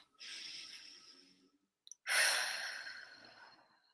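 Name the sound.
taking a deep breath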